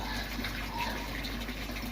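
Water running into a lined garden koi pond, a steady, close gushing and splashing flow without pause or voices.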